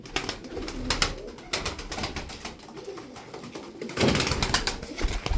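Pigeons cooing in a loft, soft repeated low coos mixed with scattered wing flaps and bird movement, fairly close, with no talk.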